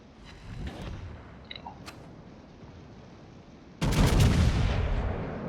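Secondary naval guns fire at a destroyer in World of Warships, a late burst of sharp, loud booming shots arriving after a quieter stretch of faint distant rumble and small pops.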